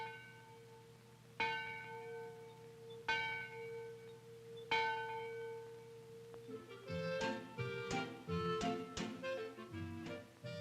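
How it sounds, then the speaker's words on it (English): A great school bell on the roof, rung by a rope hung through the ceiling, tolls three slow resonant strikes with long ringing decay, then several quicker overlapping peals. "A rope which hung through a hole in the ceiling rang the great bell on the roof and called the children to classes."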